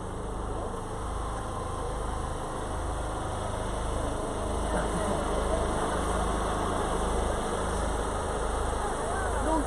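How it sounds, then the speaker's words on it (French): A buggy's engine runs at a steady idle with a low, continuous rumble, heard close and fairly loud outdoors with faint background noise. "Donc voilà, c'est le moteur."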